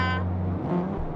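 A 350 hp car engine holds about 7,000 RPM in first gear, a steady loud high-revving drone that dips briefly partway through, close by with no talk.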